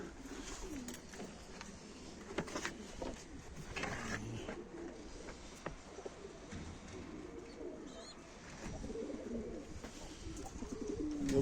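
Several pigeons coo in a busy, cluttered setting in Mardin, Turkey, their low warbling calls mixed with rustling, flapping and scattered clicks throughout.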